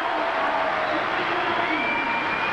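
A crowd at the 1983 women's artistic gymnastics World Championships cheers for gymnast Boryana Stoyanova, a steady roar of distant arena cheering that fills the whole span.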